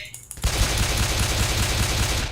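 Sustained rapid gunfire from a weapon in the zombie shooter Left 4 Dead 2, bursting in loud and close after a brief quiet moment and continuing as a dense, unbroken automatic volley.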